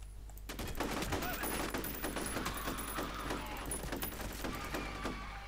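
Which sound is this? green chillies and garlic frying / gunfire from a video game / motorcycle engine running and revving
gunfire from a video game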